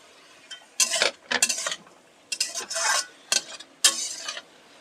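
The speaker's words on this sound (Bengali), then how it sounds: "এটা হালকা আঁচে নেড়ে চেড়ে নিয়েই রান্না করতে হবে।" Green amaranth leaves with chickpeas being stirred in a pan over low heat: quiet bursts of scraping and rustling, a few utensil taps on the pan, spaced in uneven strokes.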